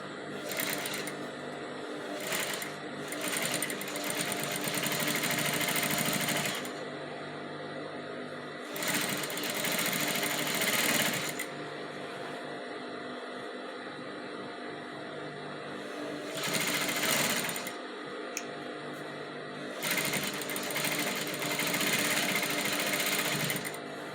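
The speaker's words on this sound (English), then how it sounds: "Then I'll just gently sew on the edge." A sewing machine stitches elastic onto the edge of a stretch swimsuit fabric, whirring in several bursts of a few seconds each with short pauses between them, steady and close.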